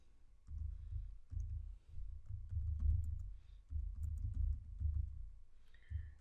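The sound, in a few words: typing code on a computer keyboard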